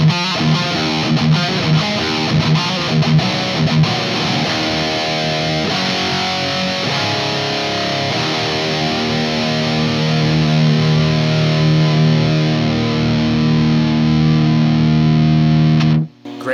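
An electric guitar played through an EVH 5150III LBX amplifier with the gain turned fully up, giving heavily distorted chugging riffs and then long sustained notes, loud and close, with no voices.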